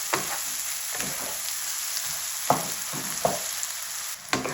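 Bitter gourd roasting in a pan, a soft even sizzle at low level punctuated by several sharper scrapes and knocks of a spatula stirring the pieces, no one speaking.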